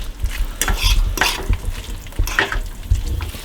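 Onions caramelizing in a frying pan give a steady sizzle, broken by repeated close scraping strokes of a spoon roughly every half second, loud and near, with no talk.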